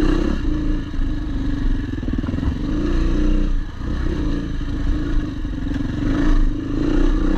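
Yamaha WR400F dirt bike ridden on an MX trail, its engine droning steadily and loud throughout with small surges and clattering, no talk over it.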